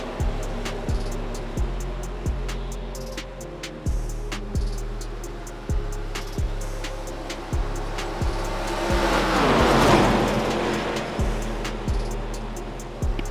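Race cars at Atlanta Motor Speedway in a racing video game roar steadily around the track, with a rhythmic pulsing engine drone, a swelling rush of cars passing midway, and repeated sharp clicks over the continuous noise.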